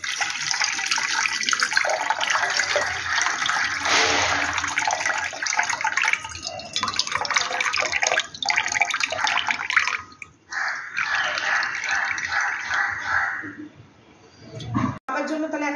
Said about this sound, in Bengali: জলটা ঢেলে নিচ্ছি।